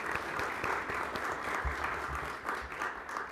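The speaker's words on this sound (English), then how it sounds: "Round of applause for our sponsors." A seated audience applauds the sponsors at a speaker event, with dense, continuous clapping lasting a few seconds and some scattered crowd noise mixed in.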